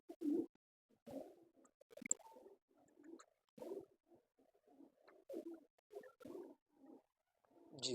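Firozpuri and Teddy pigeons coo close by in a quiet loft, soft throaty bursts repeating in an uneven rhythm with brief pauses between calls and no talk.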